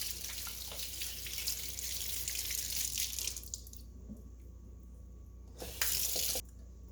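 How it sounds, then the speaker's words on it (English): Faucet water runs steadily while natural hair is wetted before shampooing, a close, hissing stream that breaks off midway to near silence, then returns with a short, loud splashing gush before stopping again. "So I'm gonna wet my hair a little bit more actually"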